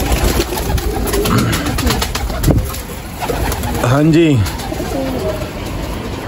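Pigeons coo nearby in soft rolling phrases, one clear throaty coo standing out midway, with a short bit of talk and background clatter around them.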